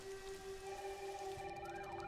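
Heavy rain falls as a steady, dense hiss, with a faint wavering siren tone rising and falling underneath and no talking.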